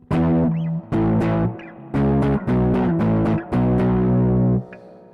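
A distorted electric guitar plays the second riff of "Hit Me With Your Best Shot", struck as repeated paired chord hits moving down and back up the neck, loud and close, ending on a sustained chord.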